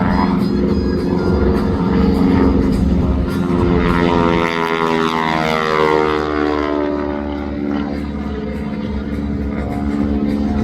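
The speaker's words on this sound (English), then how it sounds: "You're going to hear the engine pop and they see a little flame come out." A propeller aerobatic airplane performing at an airshow drones loudly and continuously overhead, its engine pitch sweeping down and back up as it maneuvers, with no voices over it.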